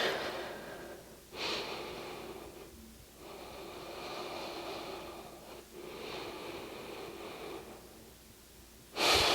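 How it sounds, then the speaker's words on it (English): Slow, deep yoga breaths during a gentle side stretch, several long airy inhales and exhales in a steady rhythm, close and fairly soft, ending with a sharper breath. "Couple good deep breaths here."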